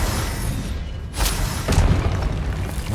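A Confringo spell explosion in the video game Hogwarts Legacy, a loud booming blast with a sharp crack, then a rumbling burst and lingering roar.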